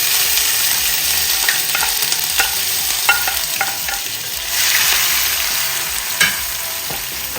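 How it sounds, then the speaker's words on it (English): Salt mackerel frying with seasonings and tomatoes in a pot, a steady loud sizzle with the clink and scrape of a utensil stirring at irregular intervals, close up and alone. "now we're gonna move on to frying up the salt mackerel and stuff"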